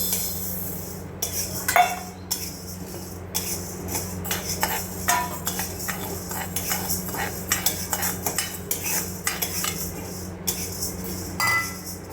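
Masoor dal (red lentils) dry-roasted in a pan for traditional metkut, with a spoon scraping and stirring in a steady run of dry rattles, clinks and scrapes against the metal, close and moderately loud, with no talking.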